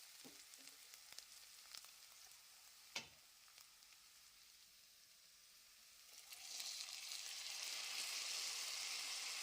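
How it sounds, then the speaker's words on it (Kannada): Tomatoes frying with softened onions in a pan for tomato fried rice, a steady sizzle that is faint at first with a few sharp stirring clicks, then swells into a louder, continuous hiss in the last few seconds. "ಟೊಮೊಟೊ ಸಾಫ್ಟ್ ಆಗೋ ತನಕ ಫ್ರೈ ಮಾಡ್ಕೊಳ್ಬೇಕು"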